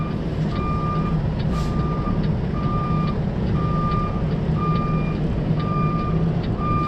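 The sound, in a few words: flatbed truck reversing beeps while backing out onto street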